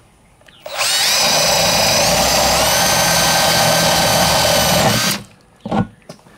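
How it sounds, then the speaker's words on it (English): A power drill bores a drain hole through the bottom of a citrus plant pot: a loud, steady high whine that runs for about four seconds, stops abruptly, and is followed by a brief spoken word. "drill the second drain hole at the bottom of the pot"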